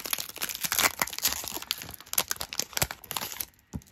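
A glued trading-card booster pack wrapper is crinkled and torn open at close range in a quick run of crackling rips and crunches. The noise stops abruptly near the end, with no talking.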